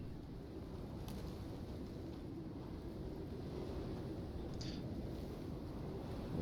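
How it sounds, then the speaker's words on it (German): Strong wind blowing in the survival video game Icarus, a steady low rumbling gust with a broad hiss that builds slightly toward the end, continuous and close. "Ey, der Wind ist schon abartig krass, hey."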